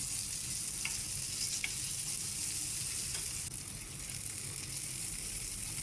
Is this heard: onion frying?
yes